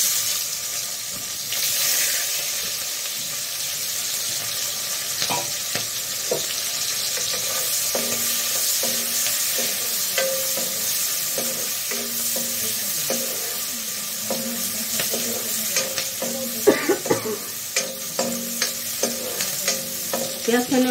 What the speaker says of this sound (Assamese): পিঁয়াজখিনি অলপ টাইম ভাজি লওঁ